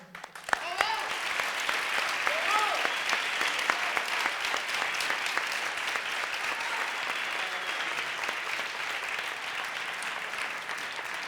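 Audience applause fills a gala event hall, a dense steady clapping from a large crowd that starts abruptly and carries on loud and even throughout, with a few voices and cheers mixed in.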